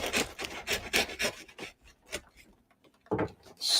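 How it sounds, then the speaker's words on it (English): A hand saw cuts through a cardboard box with a close, raspy back-and-forth scraping in a quick uneven rhythm of strokes, pausing briefly before one more burst. "Sawing through this box."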